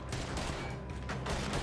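A rapid burst of gunfire in Red Dead Redemption 2, several shots crackling in quick succession against a noisy game soundtrack.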